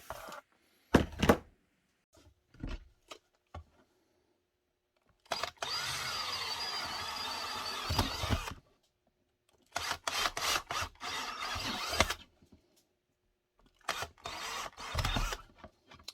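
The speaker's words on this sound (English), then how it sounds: "When you're drilling, you only want to go through one layer" Power drill boring holes through holster material, several separate bursts of high whirring spin lasting a few seconds each, broken by quiet pauses and short clicks and rubs of handling, close and fairly loud.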